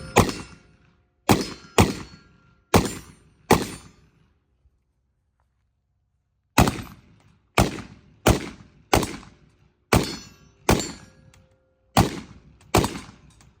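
Gunshots from a Maxim Defense MDX 510 rifle with a surefire light, loud single shots at an even pace: five shots, a pause of a few seconds, then eight more, each with a short ringing decay.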